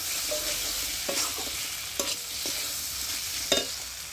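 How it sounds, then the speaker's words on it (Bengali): Fried potato pieces are stirred into a spiced masala in a pan for a potato and mushroom curry, giving a continuous sizzle broken by several distinct spatula scrapes and knocks at irregular intervals, close and clear. "ভেজে রাখা আলুটা দিয়েও আমি কিছুক্ষণ কষিয়ে নেব।"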